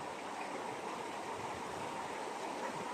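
Clear mountain stream flowing down from a peak, a steady close rush of water with broad hiss and no talk over it.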